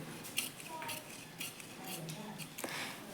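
Scissors cutting blouse fabric straight along a marked line, a series of soft, close crisp snips and rustles with a few small metallic clicks, faint overall.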